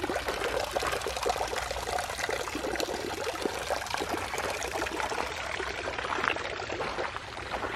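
Steady, close splashing of a garden fountain spraying and falling water at Rip Van Winkle Gardens, continuing without pause, a dense hissing wash that never lets up.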